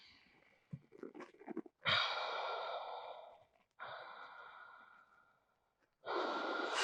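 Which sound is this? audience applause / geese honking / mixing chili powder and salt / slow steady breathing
slow steady breathing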